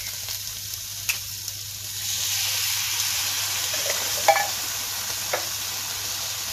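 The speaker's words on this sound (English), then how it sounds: "So going to put the tin tomatoes in," Canned tomatoes go into a pan of frying chorizo, a steady loud sizzle and hiss with a few spoon scrapes and knocks as the mixture is stirred, no voices.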